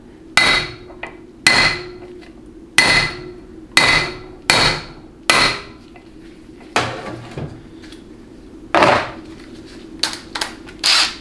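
Hammer blows on a manual impact driver loosening fasteners on a 4L60E transmission pump assembly: loud, sharp metallic strikes spaced about a second apart, then a quicker cluster near the end.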